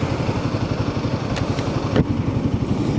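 A Royal Enfield Himalayan 450 motorcycle engine idles nearby in a steady low rhythmic thumping pulse with a couple of brief mechanical clicks, no talk.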